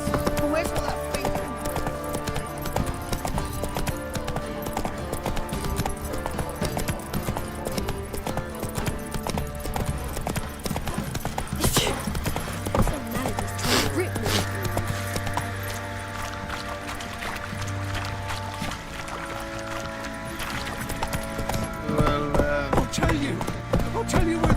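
Hooves clip-clop steadily in The Witcher 3 as a horse moves along, blended with game music and ambient sound and occasional voices throughout.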